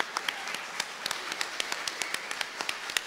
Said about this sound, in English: a round of applause for yourselves just for being here tonight